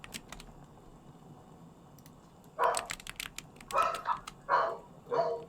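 A dog barks in several sharp, close bursts spaced about a second apart, loud above a faint background hum.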